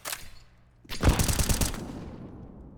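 Gunfire from a hero AK rifle and pistols in an esports video game match, a short burst followed by a dense, loud volley of rapid shots that tails off over about two seconds.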